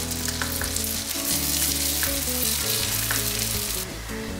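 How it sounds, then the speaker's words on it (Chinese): Sweet potato pies pan-frying in oil over low heat in a flat pan, a steady close sizzle with faint scrapes, partly masked by a sustained background hum. "开小火把地瓜馅饼放下来煎"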